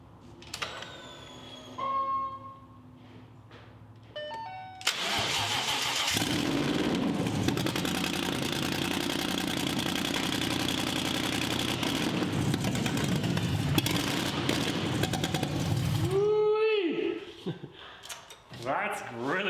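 A 1965 Factory Five Cobra replica's engine cranks and fires at about five seconds, then settles into a loud, steady, rumbling idle close by for roughly eleven seconds before cutting off, with brief talk before and after.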